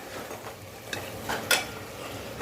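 A spoon stirs beef kidney masala in a hot pan, giving soft scrapes and a couple of sharper clinks over a low, steady sizzle, close by with no talking.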